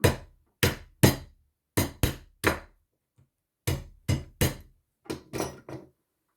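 A series of about a dozen sharp, close cracking snaps as a crab shell is broken with a peanut cracker, in irregular bursts, each short and crisp, with quiet gaps between and no voices.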